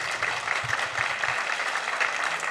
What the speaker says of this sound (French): On peut vous applaudir pour vous remercier.